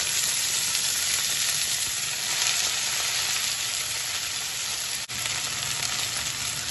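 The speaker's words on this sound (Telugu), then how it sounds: "1 టేబుల్ స్పూన్ ఆయిల్ వేసుకొని ఇందులో మనం కడిగి రెడీగా ఉంచుకున్న చుక్క కూరని" Sorrel leaves fry in a tablespoon of oil with a constant, dense, crackling sizzle, loud and close, running evenly without a break or any voices.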